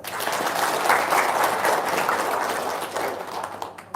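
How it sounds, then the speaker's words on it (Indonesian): Audience applause fills the room in a steady, dense wash of clapping that holds at full strength for several seconds before thinning out near the end. "Wow, tepuk tangan dong."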